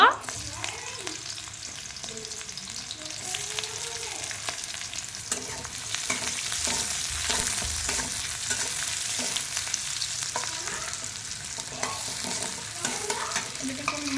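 Onions frying in a pan, a continuous crackling sizzle with repeated stirring scrapes throughout, close and steady, with no talking.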